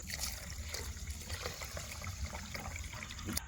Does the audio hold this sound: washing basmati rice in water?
yes